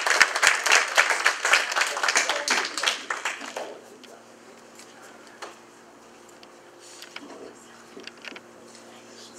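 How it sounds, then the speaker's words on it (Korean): An audience at a state senate campaign kickoff claps to welcome a taekwondo security team, a dense burst of applause for about four seconds that thins to scattered claps over quiet room tone. "우리 박수 환영하겠습니다."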